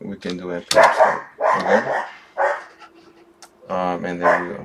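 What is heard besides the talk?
dog barking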